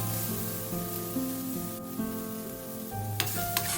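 Masala with garam masala powder sizzling and being stirred in hot oil in a pan for street-style egg podimas, a steady close frying hiss with occasional scraping clinks and a low background hum.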